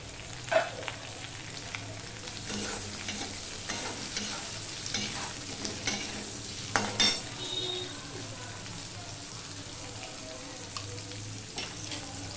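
Papaya, potato and slit green chillies stirred and frying in a pan for a Bengali singi fish curry, a steady soft sizzle under scraping spoon strokes and occasional clinks of utensil on metal, no talking.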